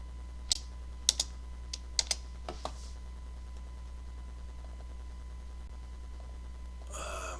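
Keystrokes on a computer keyboard, including backspace presses: a few sharp, isolated clicks and short bursts early on, then long quiet stretches and a brief rustle at the end.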